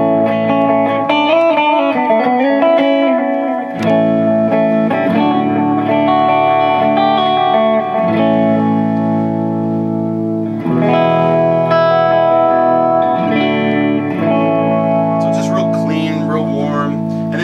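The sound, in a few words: EVH Wolfgang Standard electric guitar through 5150III amp with analog delay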